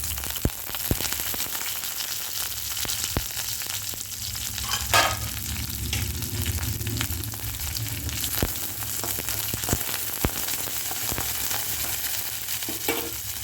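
Dried red chillies and curry leaves frying in hot oil for a cucumber dal tempering, a steady crackling sizzle dotted with sharp pops and occasional utensil taps, close and moderately loud.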